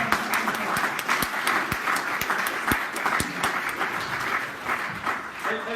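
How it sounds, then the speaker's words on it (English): A crowd at a UKIP Young Independence conference gives a sustained round of applause for a man, dense clapping filling the whole stretch with a few louder claps standing out near the front. "Give him a good round of applause"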